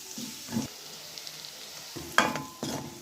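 Green chilies sautéing in a pan for a green bean milk curry: a soft steady sizzle with a few scraping stirs of a utensil and one sharper clink, fairly close.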